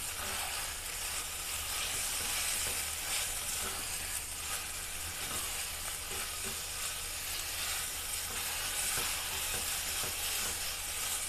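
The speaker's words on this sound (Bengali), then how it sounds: "দেখতে পাচ্ছ কিমাগুলো দিয়ে ভালো করে নাড়াচাড়া করে নিয়েছি" Minced meat keema frying with onions in a pan for a Kolkata-style kima and puri, a continuous soft sizzle with intermittent scraping of a spoon as it is stirred, steady and fairly quiet, with no voices.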